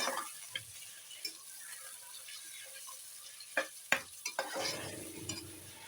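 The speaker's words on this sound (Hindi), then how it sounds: "मटन ऐड करने के बाद इसे कलर चेंज होने तक ऑयल के साथ अच्छी तरह से फ्राई करना है" Mutton pieces fry in oil over medium-low heat, a faint steady sizzle broken by scattered scraping and clinking stirs of a spoon against the pan, with no talking.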